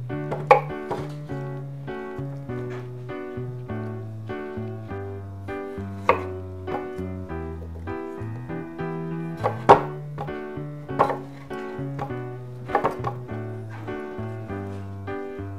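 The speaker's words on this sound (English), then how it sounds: "now we are going to actually just quarter them" A knife cuts boiled, just-tender sweet potatoes into quarters on a board, giving a few soft scattered thuds and taps over a steady background of music.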